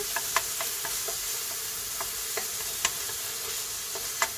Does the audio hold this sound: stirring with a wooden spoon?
yes